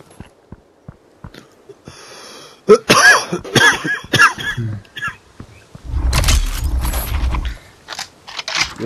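Several sharp coughs in a rough cluster mid-way, close and loud, preceded by faint clicking and followed by a breathy exhale-like rush of noise.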